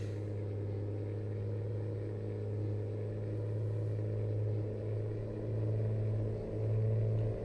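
A truck engine drones low and steady in American Truck Simulator, a constant rumbling hum with slight swells in pitch as the rig cruises along the highway, with no voices over it.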